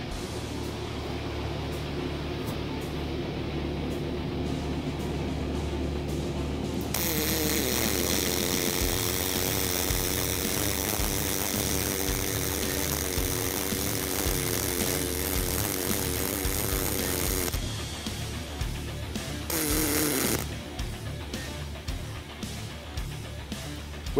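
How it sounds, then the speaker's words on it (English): A MIG push-pull weld with hot start crackles and hisses steadily for about ten seconds, then stops. The arc is up close and moderately loud, with gentler shop sounds before and after. "you could hear the difference in the weld as the wire speed slowed down as it ramped out of hot start and down into the welding wire speed"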